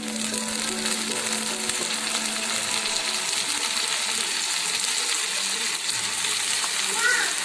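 Sliced banana flower dropped into a pan of sautéed onion, producing a steady, close frying sizzle that holds evenly throughout.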